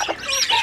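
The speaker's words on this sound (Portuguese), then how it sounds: "tá vendo que tem pintinho ali?" Tiny chicks peeping near a hen on a small farm, with a few quick high chirps close by and no talk.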